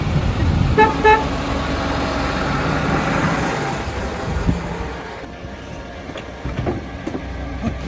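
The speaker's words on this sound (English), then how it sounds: "Garbage truck." A large garbage truck rumbles nearby with a loud, steady engine drone and a few short horn toots early on, the noise easing slightly toward the end.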